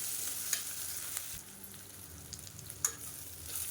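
Onions sautéing in a pan for Madurai-style chicken uppu kari give a soft, steady frying sizzle, with a few light clinks of stirring near the start and end.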